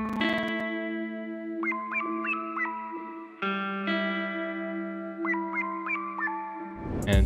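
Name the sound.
chopped guitar and synth lead samples layered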